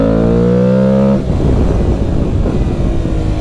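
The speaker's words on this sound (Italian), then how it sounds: "qua scodiamo la moto." A new dirt motorcycle with a 21-inch front wheel revs hard, its engine tone rising in pitch, then breaks into rough gritty churning as the rear wheel slides on loose dirt, loud and close.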